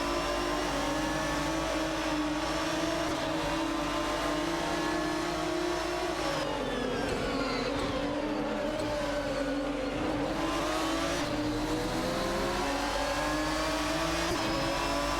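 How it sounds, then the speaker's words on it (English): Racing car engines in an AI racing game, a loud, steady high-pitched whine with harmonic tones that dip and rise again as the cars shift and accelerate, continuous and close throughout with no talking. "Racing car dashing away."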